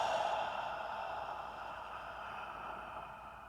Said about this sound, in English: you're gonna take a nice long exhale